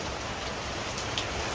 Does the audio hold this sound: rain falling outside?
yes